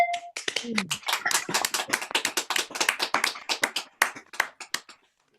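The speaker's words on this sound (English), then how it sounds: "give Tim a very noisy and mal-coordinated round of applause" Scattered clapping from an online audience just unmuted, a loose, uncoordinated patter of close, sharp claps and taps of uneven rhythm, with a brief voice and tone at the start, fading out near the end.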